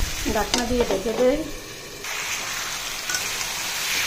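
Pangas fish and eggs sizzle with spices in a covered pan, a soft, steady frying hiss that continues after a short burst of talking at the start.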